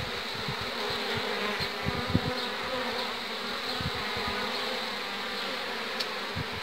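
Honeybees drone steadily inside the hive as they tear down the cell the queen left, a thick, unbroken buzz close by with occasional soft knocks and no talking.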